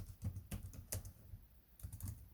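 Commands are typed on a computer keyboard in quick, soft clusters of keystrokes, close and faint, with short pauses between the bursts and no voice.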